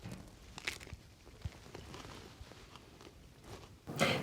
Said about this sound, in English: we can hear the crunching as well of the way that they bite into the food